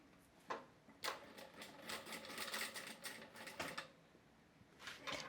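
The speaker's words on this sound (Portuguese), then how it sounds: "Então, eu vou costurar o elástico aqui na pontinha." A sewing machine stitches elastic onto the edge of a dress fabric in several short runs of quick mechanical whirring, separated by brief pauses; quiet and close, with no talking.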